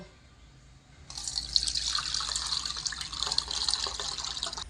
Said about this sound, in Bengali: কড়াই গরম হতে হতে আমি তেঁতুল জলটা ছেঁকে নেব